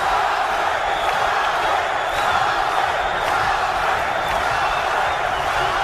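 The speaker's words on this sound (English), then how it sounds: "This crowd trying to push Guerrero" Boxing arena crowd roaring through the 11th round of the Robert Guerrero versus Selcuk Aydin fight, a loud, steady wall of cheering and shouting with no pause.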